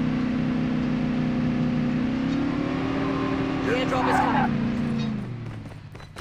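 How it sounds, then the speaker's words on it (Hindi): Engine of a car being driven in Call of Duty Mobile, a steady droning hum that rises slightly in pitch midway then fades, heard close under voices. "गाड़ी है उधर"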